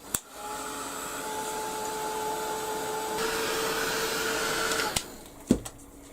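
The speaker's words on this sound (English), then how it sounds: "I'm going to give it a quick blast with the heat gun" A heat gun blasts air over a craft piece in a steady, loud whooshing roar lasting about five seconds, then cuts off, followed by a few small knocks.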